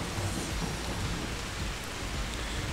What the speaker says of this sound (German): ja, Regen ist gut.